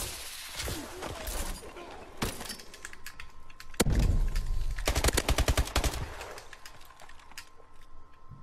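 Bulldog shotgun blasts and other gunfire in a Call of Duty: Advanced Warfare match, sharp cracks scattered throughout with a dense burst of rapid shots midway, amid game noise and faint background chatter.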